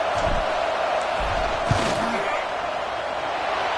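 A football stadium crowd roars steadily to rattle the kicker before a field goal attempt, a dense, sustained wall of cheering and shouting with a play-by-play voice over it.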